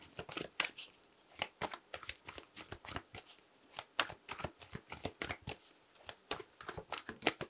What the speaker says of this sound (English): let's just shuffle the cards for a bit